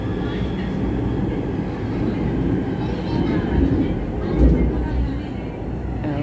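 A train rumbles along, heard from inside a carriage as a loud, continuous low roar with rattling, and people talk over it.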